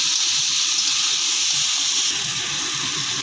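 Figs frying with spices and salt in a pan give off a continuous, even sizzling hiss that stays at a steady level throughout, close up, with a faint low clatter underneath and no voices.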